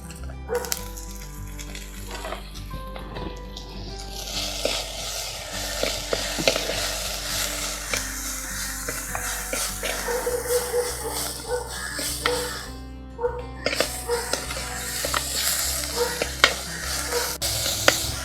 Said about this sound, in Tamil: கொஞ்சம் நல்லா தக்காளி வெங்காயம்லாம் நல்லா வதங்கும்